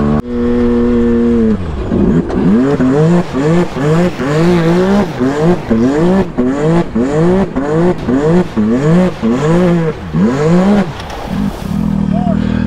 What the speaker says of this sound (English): Like initiating that first drift to like get this thing sideways.